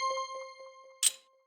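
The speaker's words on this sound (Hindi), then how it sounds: "चाचा चौधरी के घर पर घंटी बजती है" A doorbell rings at a house in a Chacha Chaudhary cartoon: a single bright chime, loud and close, follows a few soft tonal dings.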